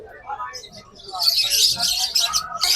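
Budgies chirp and twitter in bright, busy bursts at a Malabon pet market, and the chatter rises and thickens midway, with faint voices mixed in beneath the birds.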